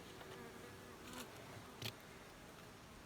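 Young honey bees buzz steadily around an opened log hive, a low continuous hum with a couple of brief louder passes nearby, no one speaking.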